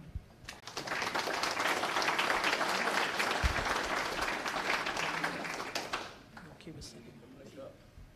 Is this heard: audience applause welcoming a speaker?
yes